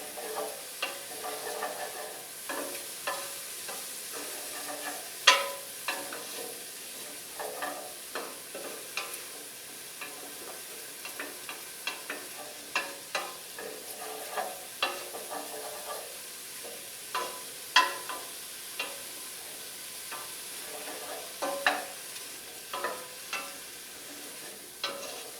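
Crushed red pepper and mushrooms roast in a pan for a spicy red sauce, giving a steady low sizzle with scattered clicks and scrapes of stirring throughout, fairly close and with no voices.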